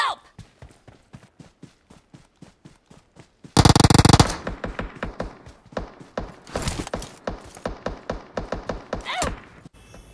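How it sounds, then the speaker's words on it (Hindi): Gunfire rings out in PUBG Mobile as repeated rapid shots come from behind, set among the rhythmic thump of running footsteps. Loud bursts are interspersed throughout, with no clear speech. "अब मैं आगे की तरफ जाता हूँ तो पीछे से मेरे को फायरिंग आने लगती है"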